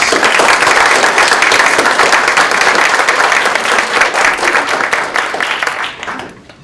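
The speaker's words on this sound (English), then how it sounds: "Another round of applause for all of our student poets." A crowd at a poetry awards ceremony claps for student poets. The applause is full and steady, then thins and fades out over the last second or so.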